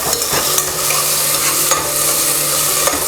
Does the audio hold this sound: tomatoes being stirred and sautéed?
yes